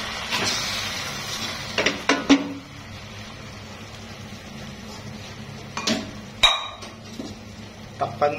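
A few sharp metallic clinks and clatters of cookware as a lid goes onto a pan of frying chicken, with a louder clank near the end, over a low steady kitchen background.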